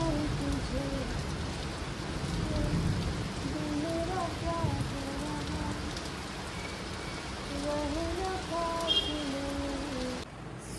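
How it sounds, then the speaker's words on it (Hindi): Heavy monsoon rain pours steadily outside an apartment, producing a constant dense hiss of drops on surfaces, with a faint voice under the downpour. "still raining"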